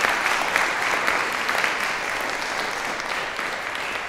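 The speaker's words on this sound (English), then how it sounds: "Please give them a round of applause." Sustained applause from a panel-talk audience, steady and dense clapping throughout with no talking.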